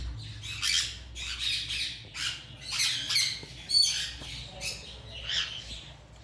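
A breeding pair of sun conure parrots gives a rapid series of harsh, shrill squawks, close and fairly loud, repeating in quick irregular bursts over a low background hum.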